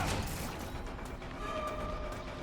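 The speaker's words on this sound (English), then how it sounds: "Working on a printer, it would seem." A printer is repaired inside a survival horror video game, giving faint, steady mechanical clicking and ratcheting over a low ambient hum with occasional soft creaks.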